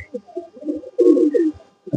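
Soft, low pigeon cooing repeats in gentle rolling phrases close by, with a few quiet pauses between calls.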